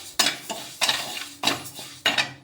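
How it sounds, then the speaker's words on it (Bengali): Moong dal being dry-roasted in a kadai with nothing else added; a spatula scrapes and stirs the dry lentils in four sharp, evenly spaced strokes, close and clear, with no talk. "ডালটা আমি শুধু কড়াইয়ের মধ্যে ভাজবো"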